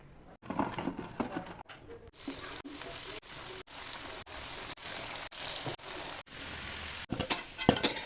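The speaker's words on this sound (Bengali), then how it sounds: "প্রথমে আলু ভেজে নেবো।" Potatoes frying in white oil give a soft, crackling patter, cut into short bursts by brief gaps of silence.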